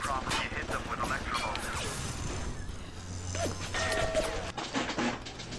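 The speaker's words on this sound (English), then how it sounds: "if a turret shoots you like that, or one of these stationary turrets shoots you like that, your security bot will go after it" Stationary security turret in BioShock firing at the player, a clattering burst of gunfire with crashing impacts amid busy game noise, fairly close and steady through the clip.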